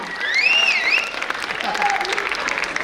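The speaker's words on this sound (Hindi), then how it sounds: "एक बार और इनके लिए बहुत जोर से ताली बजाइए" Parents in the audience applaud at a preschool annual function, steady clapping throughout while a high sung or squealing voice rises over it near the start.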